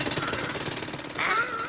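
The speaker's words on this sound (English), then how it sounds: "Come on, jackhammer." A jackhammer pounds in a fast, steady rhythm, fairly close, then a higher whirring tone joins near the end. No one speaks.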